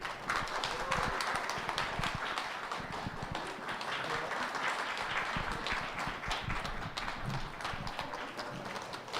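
Audience applause welcoming a former presidential spokesman onto the stage at a Saturday afternoon lecture hall talk, a dense, steady wash of many hands clapping for about nine seconds at even volume.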